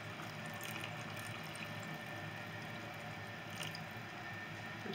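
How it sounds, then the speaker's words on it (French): Water pours steadily into a pot of meat-stuffed aubergines, a continuous soft rush with faint dripping, alone and at moderate level. "ce qu'on va faire, c'est qu'on vient couvrir d'eau"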